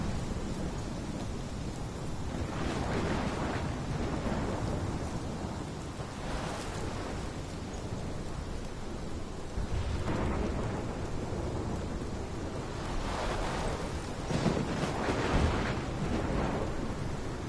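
A storm rages in the game Life is Strange, with rolling thunder rumbles swelling several times over a steady wash of heavy rain, fairly quiet and distant, with no voices.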